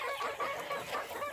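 Several chickens and cockerels cluck steadily on a farm with Silkie, Polish and Brahma breeds, a busy overlapping chorus of close, moderately loud bird calls with no talking.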